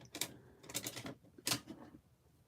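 A rubber stamp is pressed onto handmade cards with black ink, giving three soft close thumps in quick succession against a quiet room, with no talking.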